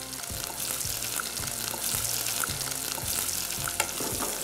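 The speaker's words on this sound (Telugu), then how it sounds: "ఈ క్యారెట్ ముక్కల్ని లైట్గా వేయించుకుందాం" Carrot pieces frying in a pan with dried red chillies on a cooking show, a steady oily sizzle broken by regular scraping strokes of a spatula stirring them, close and moderately quiet.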